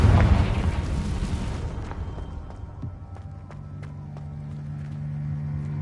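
A Confringo blast spell in Hogwarts Legacy lets off a loud, close explosive burst that trails into a long rumbling decay, then settles into low ambient hum with faint clicks.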